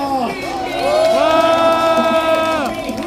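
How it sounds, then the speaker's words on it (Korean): Outdoor crowd at a presidential candidate Lee Jae-myung's rally speech at Yatap Station, a loud mass of cheering voices with rising and falling shouts and whoops, swelling in the middle and holding steady. "다시 한번 이재명 후보에게 박수 부탁드리겠습니다"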